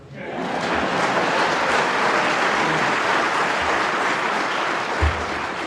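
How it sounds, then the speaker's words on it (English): The audience at a police recruit class graduation ceremony breaks into applause, swelling quickly into sustained, steady clapping that fills the hall and fades only slightly at the end, with one sharper knock near the close. "If you want to applaud, go ahead."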